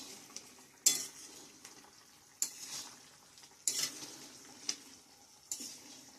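An egg omelette goes into a pot of egg curry with potatoes and garam masala, bringing soft stirring scrapes and a low simmering sizzle, with several sharper clinks of utensil against the pot.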